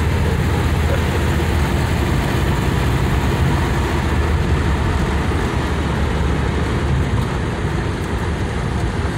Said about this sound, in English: Good strong motor, good strong shift.